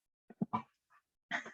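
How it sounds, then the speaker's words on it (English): A dog gives a few short, faint barks and yips in quick succession indoors at home, with gaps of quiet between them. "My dog is just barking."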